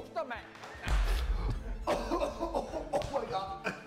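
A man coughs several times in rough bursts, close by, amid chatter and chuckling from others at a cooking or eating gathering.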